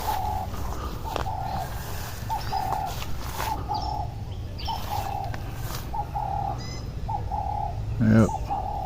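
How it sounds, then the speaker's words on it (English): Birds call around a rural African village in Kenya, with repeated doves cooing in steady low phrases alongside scattered chirps and a brief flutter of wings, moderately close over a quiet outdoor background. "You can hear the birds chirping."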